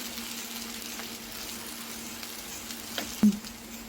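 Taro root curry fries steadily in a pan, a soft continuous sizzle with a faint clink near the end.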